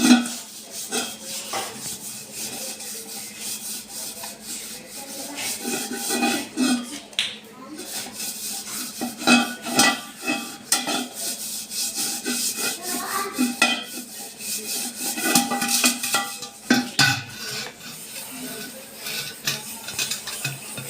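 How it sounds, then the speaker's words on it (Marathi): Brass and copper pots being scrubbed clean with a fine homemade powder, giving repeated gritty rubbing strokes and occasional metallic clinks, with some talking alongside. "हिने आपले पितळाचे आणि तांब्याचे भांडे स्वच्छ घासायचे"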